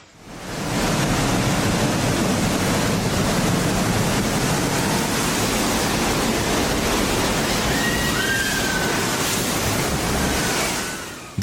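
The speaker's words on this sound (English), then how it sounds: "The ocean showed its full power as huge waves crashed over the seawall, filling the air with spray" Huge ocean waves crash over a seawall, a continuous loud roar of surf and spray with heavy wind rumble, sustained at full force for the whole stretch before dropping away at the very end.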